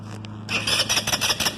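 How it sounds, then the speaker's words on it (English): A Tao Tao Raptor 200 quad engine cranking on its electric starter, a loud whirring churn that pulses quickly in uneven bursts at close range. "So we're going to give it a crank."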